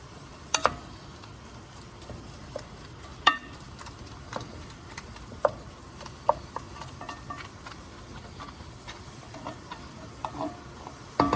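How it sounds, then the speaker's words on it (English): Ground meat breaking apart and frying in a pot for Cajun potato stew, a faint steady sizzle with scattered scraping and clicking taps from a utensil, no talk. "we're going to go ahead and get this ground meat separated"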